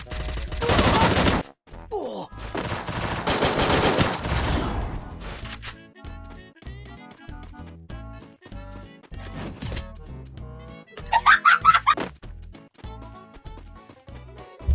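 Gunfire in the video game Free Fire comes in loud, dense bursts at the start, then quieter game sounds follow before another short rattling volley.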